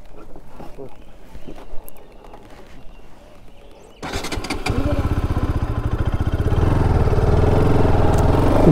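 A motorcycle starts up for a ride near Bardhaman, then idles and revs steadily, growing louder and rougher over several seconds after a quieter stretch of outdoor background.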